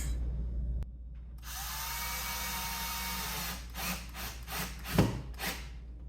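A power drill whirs in a sharp burst while driving a small screw to hold an Echo Show 15 wall mount, then trails off into a few shorter grinding pulses and a knock, close up with no talking.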